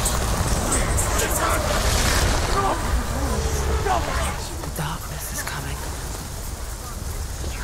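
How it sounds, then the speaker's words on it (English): Blustery wind in Hellblade: Senua's Sacrifice roars and gusts with a surf-like rush, loudest early and easing slightly later, under a person speaking. "A windy, blustery day out there today"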